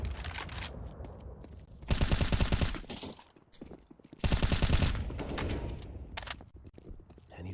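Counter-Strike match gunfire: loud bursts of rapid automatic shots in two main volleys, with scattered single shots and footsteps between them, sounding close and punchy under no talk.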